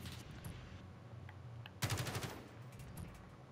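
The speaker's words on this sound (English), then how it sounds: "They shoot at me." Gunfire in the Warzone battle-royale video game: a sharp rapid burst of automatic shots in the middle, with scattered fainter shots before and after over a steady game background.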